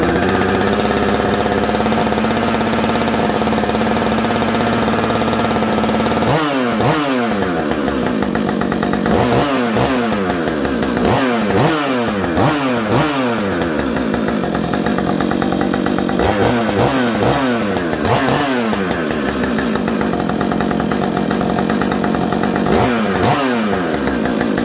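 A chainsaw engine on fast idle while its auto-tune adjusts, during a rebuild after scored cylinders and pistons. It runs loud and close without a break, surging repeatedly into short rev bursts before settling back.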